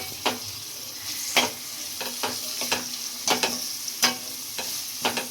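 Beans and carrots for sauce-free fried rice frying in a hot pan, a steady sizzle broken by repeated sharp scrapes and clacks of stirring at irregular intervals, close and moderately loud with no talking.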